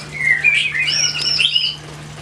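White-rumped shamas (murai batu) sing in an aviary, a loud, close burst of bright, warbling whistles and quick chirps over a low steady hum.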